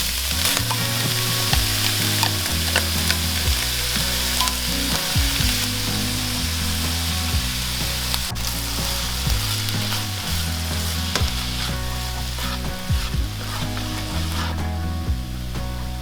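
Vegetables hit a frying pan after the meat is drained, sizzling and crackling steadily and loudly up close, with occasional stirring noises and a low rhythmic hum underneath.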